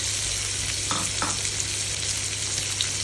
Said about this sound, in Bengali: প্রথমে চলে গেল আমাদের পেঁয়াজ, নেক্সট ক্যাপসিকাম।